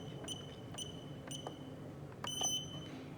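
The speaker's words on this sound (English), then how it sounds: "long beep to confirm" A universal garage door opener keypad for a Genie opener gives several short electronic beeps spaced apart, then a longer tone, quiet against faint room noise.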